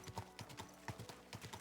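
A horse's hooves clip-clop at a steady walking rhythm in the medieval video game Kingdom Come: Deliverance II, even paced and fairly quiet.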